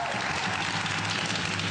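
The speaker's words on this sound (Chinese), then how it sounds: "拍手" Hands clapping together in a steady burst, dense and continuous like a small group applauding, close and fairly loud with no speech over it.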